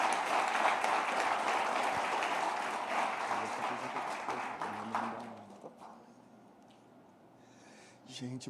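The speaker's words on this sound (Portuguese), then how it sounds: "Você pode aplaudir ao Senhor pela vida dele." A church congregation applauds during an evening worship service, a steady wash of clapping that is loud at first, thins out near the end and leaves a quieter stretch with a few voices.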